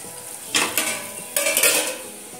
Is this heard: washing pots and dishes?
yes